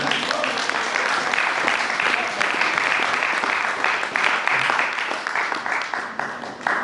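A church congregation applauds in praise during a worship service, with loud, sustained clapping that fills the room from start to finish, its sharp claps thinning slightly toward the end.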